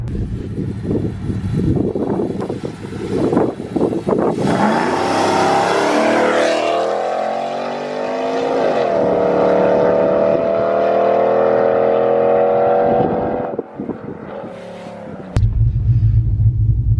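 A cammed Ram truck engine roars as it revs under hard acceleration, climbing loudly in pitch for several seconds with a heavy rumble before dropping off abruptly near the end.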